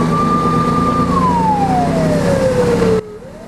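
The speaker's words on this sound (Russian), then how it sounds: "Приманкой служил красный автомобиль пожарной охраны, который ездил по улицам Барнаула с включенной сиреной" A red fire engine drives through city streets in Barnaul with its siren on, a loud steady wail that holds then glides downward before cutting off abruptly.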